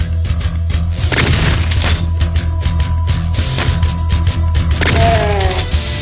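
Constant loud gunfire and booming explosions from the video game Mini Doom, dense overlapping blasts with a heavy low rumble and occasional sharper crashes, no talking.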